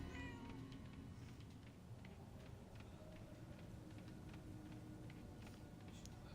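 A cat meowing in the video game Murdered: Soul Suspect, a few faint, short mews over a low ambient game background with soft ticking, no talk.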